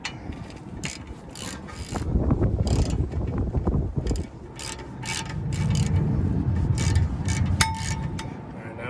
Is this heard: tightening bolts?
yes